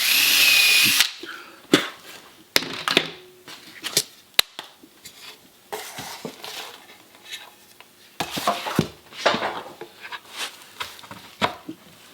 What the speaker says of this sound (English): Only take the larger drill a slight way in.